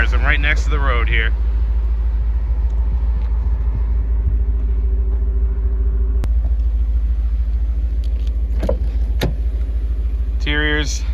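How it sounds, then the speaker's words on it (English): Cars pass on a road right beside the spot, a steady low rumble with swells as vehicles go by, loud and close, with a person talking over it. "Sorry about the cars, I'm right next to the road here."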